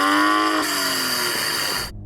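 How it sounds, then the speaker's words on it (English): BMW M240i six-cylinder engine revving, a loud rising rev then a falling note as the throttle closes, fading before cutting off near the end. "So I'm going to start off by revving up my car."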